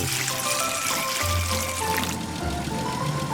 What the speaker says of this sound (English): The concrete mixer is going to pour concrete into the foundation holes